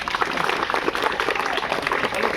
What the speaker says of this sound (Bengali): এই সবাই মিলে দুই স্যারের জন্য একটা জোরে হাততালি